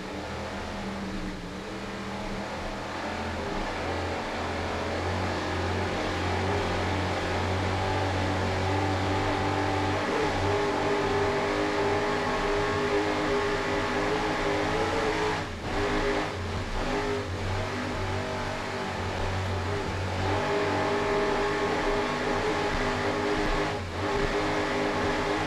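A Mercury-powered 40-foot Fountain powerboat in a Super V offshore race, its engines droning steadily at high throttle with a constant roaring hum and rushing water throughout.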